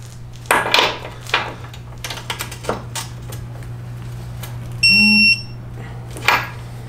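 A digital torque wrench is set to 65 foot-pounds on the inner ball joint of a BMW, giving a short, steady electronic beep near the end, with clicks and metallic handling noise and a constant low hum underneath.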